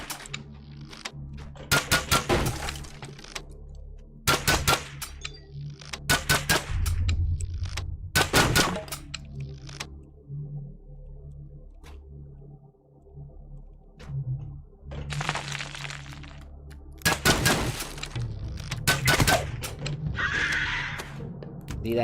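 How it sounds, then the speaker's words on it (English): Repeating crossbow in Dungeons and Dragons Online firing in rapid rattling bursts, clusters of sharp mechanical clacks separated by short pauses, close and fairly loud, with no speech. "the fact that this is a repeating crossbow makes it even better"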